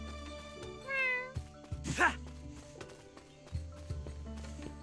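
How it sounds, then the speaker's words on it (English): A cat meows in the fantasy action video game The Adventures of Elliot: The Millennium Tales, one clear high cry amid game music and clip-clopping footsteps, with no talk. "Another cat."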